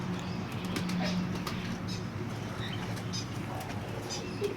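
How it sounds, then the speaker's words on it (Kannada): A homing pigeon flaps its wings at a theme park aviary. The flapping is soft and fairly distant over a constant low background hum, with faint chirps and bird calls mixed in. "ಒಂದು ಹೋಮರ್ ಇದೆ ಇಲ್ಲಿ ನಮ್ಮ ಪಕ್ಕ."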